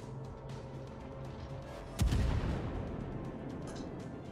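Heavy naval gunfire from the battleship Alaska in World of Warships, a single loud booming salvo with a rumbling tail over steady engine and ocean ambience.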